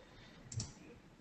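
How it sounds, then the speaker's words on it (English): A single soft click of a computer mouse while working in SAP Business One software, quick and faint against a quiet room background. "so if I click on add"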